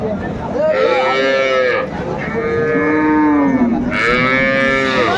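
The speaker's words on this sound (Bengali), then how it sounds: "শাইওয়াল গাভী বাছুর আমরা দেখছিলাম এখানে" Sahiwal cows and calves at a cattle market give loud, drawn-out moos, three long calls in quick succession close by, over a murmur of the crowd.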